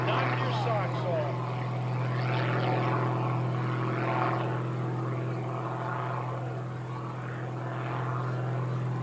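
A propeller aerobatic airplane drones overhead at the New Garden Airshow, a steady engine hum rising and falling gently as it passes, while an announcer talks over the sound.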